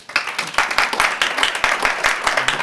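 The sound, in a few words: audience applause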